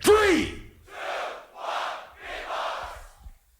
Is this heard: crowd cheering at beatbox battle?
yes